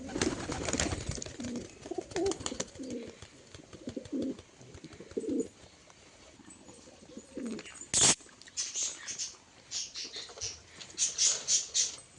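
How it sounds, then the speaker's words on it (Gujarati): Pet pigeons coo repeatedly in a loft, several soft throaty calls in irregular bursts close by, mixed with scratching, fluttering and a sharp click partway through. "આ છે બધા આપણા કબૂતર।"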